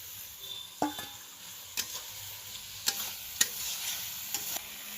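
Fried chhana and okra being stirred into a cooked spice masala, a faint low sizzle broken by a handful of sharp spoon scrapes and clinks against the pot, close by and without speech.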